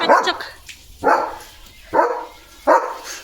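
A German Shepherd barks at another dog outside, four loud, close barks spaced about a second apart with brief gaps between them.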